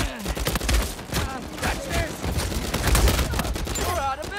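Rapid blind-fire gunfire in Uncharted 4 multiplayer, dense bursts of shots with scattered game effects, a voice briefly speaking over the clatter.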